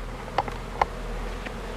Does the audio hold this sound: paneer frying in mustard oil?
no